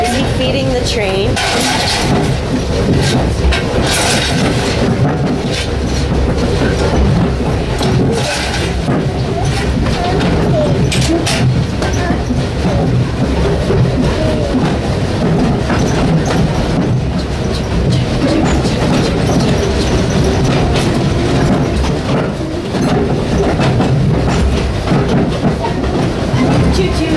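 A train rumbling along the tracks with a continuous heavy roar and rhythmic clatter, close and loud, while people talk over it.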